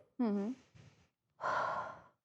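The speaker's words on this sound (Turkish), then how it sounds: "Bir nefes alıp verin." A person breathes in and out, a voiced inhale followed after a pause by a long, airy exhale like a sigh, close to the microphone.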